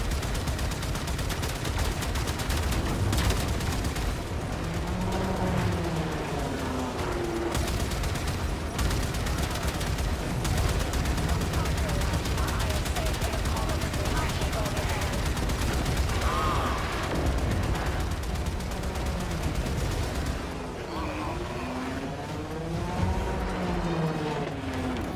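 Sustained, dense gunfire from the Warframe video game as cannon batteries are shot down, a near-continuous rattle of rapid shots layered over loud game effects and a steady low rumble, with no pauses for the whole stretch.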